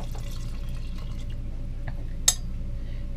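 A cornstarch and water mixture is poured into a cooking pot for a Southern-style supper, giving soft trickling and dripping over a steady low kitchen hum, with one brief sharp clink.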